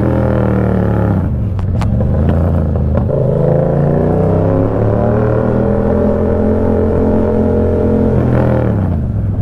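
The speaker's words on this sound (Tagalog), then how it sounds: "Tinanggal ko na yung kanyang silencer para naman ma-feel natin ang kanyang power talaga." A vehicle engine with its silencer removed revs loudly up close, rising and dropping in pitch, then settles into a raw, throaty, sustained roar with another rev near the end.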